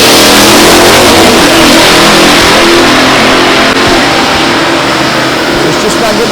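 Drag race car at Indy roaring down the track, a very loud continuous engine blast that fills the whole moment with little change.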